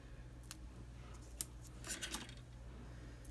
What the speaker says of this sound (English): Cut this the way you want it.